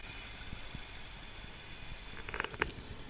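A 2010 BMW 650i engine idles steadily on a cold start, a low, even, fairly quiet hum with a few faint ticks and clicks near the end.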